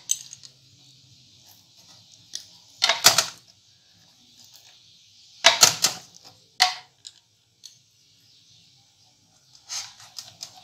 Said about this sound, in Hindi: इसको मैं काट के भी दिखाती हूँ।